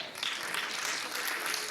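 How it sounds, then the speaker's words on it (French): An audience at a solidarity award presentation applauds steadily, a dense wash of clapping at moderate distance with no pauses. "Applaudissements"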